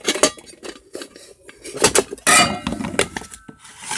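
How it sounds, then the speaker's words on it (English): Metal lid rattling and clinking against a small Dutch pan as it is fitted on: a string of sharp clanks and scrapes, close and uneven, with one louder grinding clatter midway and no talk. "the lid to the little Dutch pan fits quite well"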